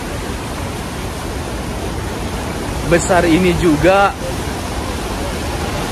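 Niagara Falls roars as a steady, loud, broadband rush of falling water beside a large river, continuous throughout, with someone briefly speaking over it midway.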